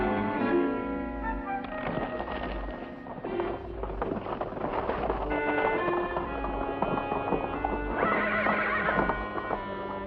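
A horse at a Western ranch whinnies with bright, wavering neighs over steady clip-clopping hooves, with a second loud, rising whinny near the end; the sounds are close and clear with no talking.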